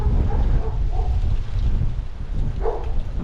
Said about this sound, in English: Very windy again today.